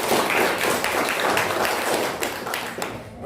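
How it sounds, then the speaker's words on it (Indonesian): A classroom of students applauding, dense overlapping hand claps that stay loud for about three seconds before fading slightly at the end. "Beri tepuk tangan."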